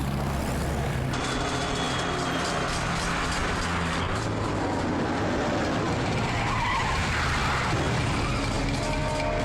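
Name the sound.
car chase with skidding cars in a movie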